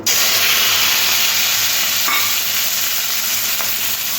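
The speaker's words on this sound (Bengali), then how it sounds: "নুন আর হলুদ মাখানো চিংড়ি মাছগুলো তেলের মধ্যে দিয়ে হালকা একটু ভেজে নেবো" Shrimp coated with salt and turmeric fry in hot oil, giving a loud, steady sizzle that hisses without break, with a couple of faint stirring clicks.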